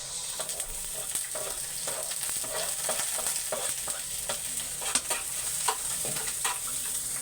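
Garlic and onion sizzle in a hot pan for corned beef with eggs, a steady crackling fry with occasional stirring scrapes and pops, close and moderately loud.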